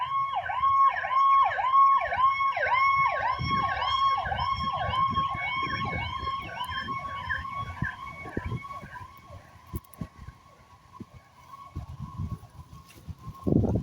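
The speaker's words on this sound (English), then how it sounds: "Oh, fire truck." A fire truck siren wails in rapid rising-and-falling cycles, loud at first and fading as it passes, leaving low traffic rumble behind.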